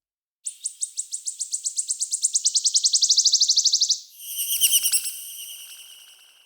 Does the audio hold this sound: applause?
no